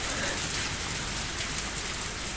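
Steady heavy rain pours down in a dense, continuous hiss with no pauses, loud and close throughout.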